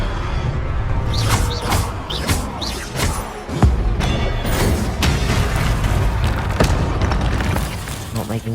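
Spell explosions and magical blasts from Hogwarts Legacy combat, the Confringo fire spell among them, with repeated booms and crashes in quick succession over a dense, loud game score.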